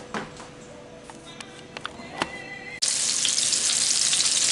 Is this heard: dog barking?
no